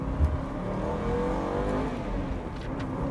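An Aston Martin Vantage with a 4.7-liter engine and manual gearbox pulls away with a steady, loud, continuous engine roar that climbs slightly in pitch over about three seconds, close and unbroken, with no talking.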